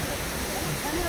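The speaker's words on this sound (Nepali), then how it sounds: "एकदम चिसो चिसो झरना छ" A cold waterfall at the Hatkholi picnic spot pours with a loud, continuous rushing roar, heard close and steady throughout the brief moment.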